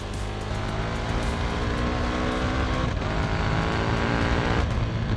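A KTM 1290 Super Duke R motorcycle engine pulls hard under throttle, a loud, steady, throaty roar mixed with wind rush as the bike accelerates, with no voices.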